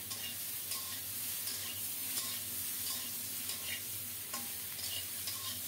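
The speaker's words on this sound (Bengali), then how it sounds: "এখন দেব কেটে রাখা 8-10টা কাঁচামরিচ।" Eight to ten chopped green chilies go into a pan of mixed vegetables and sizzle as they are stirred. A quiet, steady frying hiss carries faint, occasional utensil taps, with no talk.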